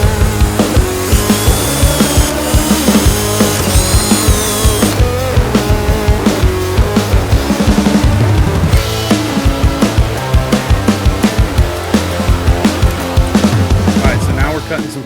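A power drill fitted with a cutting attachment works on wood pieces for a beach truck cabana, buzzing loudly in repeated close bursts with pauses between cuts.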